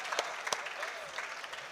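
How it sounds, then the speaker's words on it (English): A brief burst of audience applause at a youth climate adaptation awards ceremony, dense steady clapping from a moderate-sized crowd with a few sharper claps standing out. "give her an advance clap for that"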